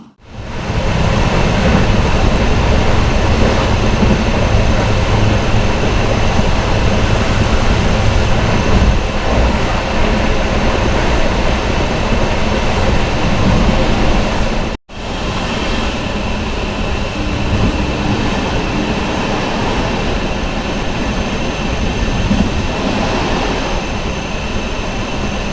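Loud, steady rumble and roar from inside an Amrit Bharat Express train hauled by a WAP5 electric locomotive, with continuous broadband rolling noise that cuts out briefly in the middle, then resumes slightly quieter.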